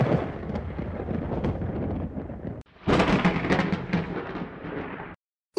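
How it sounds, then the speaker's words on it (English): Thunder from lightning in a weather video game, a long loud rolling rumble, a brief break, then a second heavy crashing peal that cuts off abruptly. "The lightning is closer!"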